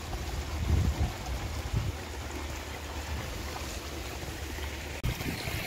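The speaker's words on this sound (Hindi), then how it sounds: "देख सकते हैं पानी किस तरीके से चल रहा है। फुल प्रेशर आ रहा है गेहूं।" Irrigation water flowing at full pressure into a wheat field, a steady broadband rush and gurgle with low rumbling swells near the start and a brief knock near the end, no voices.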